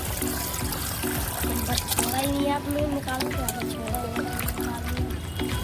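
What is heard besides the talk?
water being poured out while washing wheat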